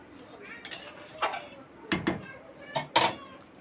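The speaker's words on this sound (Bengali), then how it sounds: "এবারে একটু তরকারিটা নেড়ে দেবো" A spoon scrapes and clinks against a pot of chicken curry in a few short bursts, the metallic knocks growing louder toward the end over a soft background.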